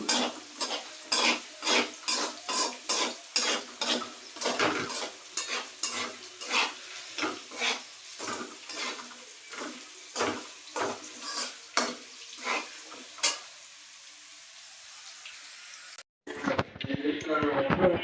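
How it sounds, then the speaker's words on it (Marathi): Potatoes and green chilies sizzle in hot oil while being stirred, with a spoon scraping and clinking against the pan in a steady rhythm, a continuous frying hiss underneath, and a brief shuffle of other noise at the end. "बटाटा टाकले तेलात. हिरवी मिरची टाकते."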